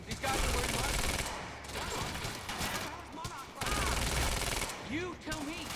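Rapid automatic gunfire in the video game Quantum Break, loud sustained bursts of shots that fill the clip, with brief lulls and an excited voice talking over the battle.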